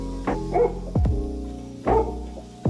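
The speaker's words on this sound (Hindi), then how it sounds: "फिर ये जाके बहुत सारा भौंकता है" A dog on a home balcony barks in short loud bursts close by, a few separate woofs with a pause between them and no talking.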